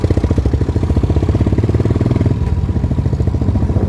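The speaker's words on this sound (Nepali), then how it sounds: "ट्र्याक्टर पनि आउँदैछ।" A loud tractor diesel engine chugs with a rapid, steady rhythmic knock close by as it approaches, its tone shifting slightly partway through.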